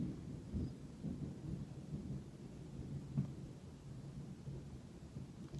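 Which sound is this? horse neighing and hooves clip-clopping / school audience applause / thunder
thunder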